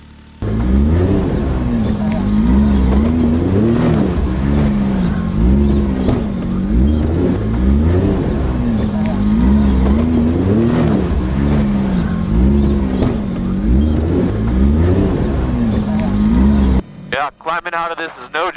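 A high-clearance off-road vehicle's engine drones and surges in rhythmic pulses as it crawls up a rocky, steep mountain trail in Arizona, loud and close throughout, cutting out near the end.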